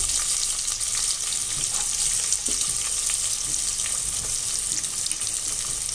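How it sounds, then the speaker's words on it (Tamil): Chopped onion dropped into hot oil for a one-pot vatha kulambu rice, giving a dense, continuous close sizzle with faint crackles throughout. "இதில் நம்ம கட் பண்ணி வச்சுருக்கிற வெங்காயம் போட்டுடுறேன்"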